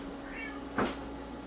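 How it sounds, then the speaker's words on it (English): A single short meow from a cat in heat, fairly close, rising and falling, with a faint earlier whine in a quiet room. "So my cat's in heat right now."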